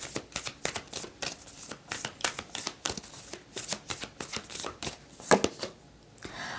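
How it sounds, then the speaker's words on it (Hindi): Oracle cards being shuffled in a quick series of crisp, papery riffs and flutters, close and fairly loud, with no talking over them. "लेट्स सी आपके ऑरेकल कार्ड क्या यहाँ पर रिवील करता है।"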